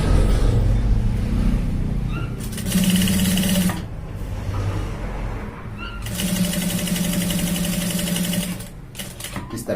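A sewing machine stitches a folded shirt sleeve at the shoulder in loud bursts of rapid mechanical chatter, starting and stopping several times with quieter handling noise in between.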